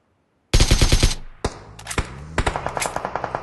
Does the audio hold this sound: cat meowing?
no